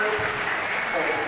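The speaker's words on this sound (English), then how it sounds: "Big applause." Audience applause at a table tennis tournament after the winning match point, a dense steady wash of many hands clapping at moderate distance throughout, with faint talk mixed in.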